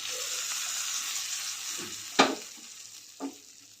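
A hot tadka tempering poured over coconut chutney in a bowl, a bright hiss that fades, broken by one sharp crackle and a softer pop later.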